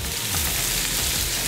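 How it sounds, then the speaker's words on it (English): Ingredients sautéing in a pan for veal chop marsala, a steady close frying sizzle with a brief tossing rustle, no talking. "We're gonna saute these up just a little bit."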